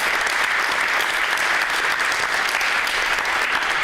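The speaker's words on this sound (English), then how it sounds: "Please give a very, very, very warm applause to Jana Klementovicius from UNICEF" An audience at a case contest event applauds warmly, a continuous even wash of clapping sustained for several seconds without talk.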